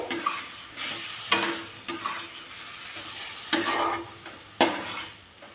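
Vegetables stirred in a pan with mustard paste and green chili paste, giving repeated scraping sweeps of a spoon against the metal over a soft, steady sizzle, close up with no talking.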